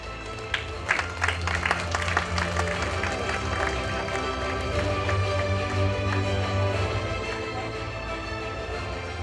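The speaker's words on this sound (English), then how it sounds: "Can we please have a round of applause as the participants receive their medals?" Auditorium audience applause at an idea-pitch event as participants receive medals, scattered claps swelling into steady clapping with crowd noise, footsteps and stage bustle, moderately distant.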